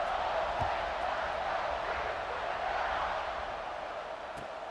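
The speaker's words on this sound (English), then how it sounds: "this crowd is buzzing after that last score" A college football stadium crowd buzzes as a steady, dense roar after a score, with broad sustained murmur and no clear individual voices throughout.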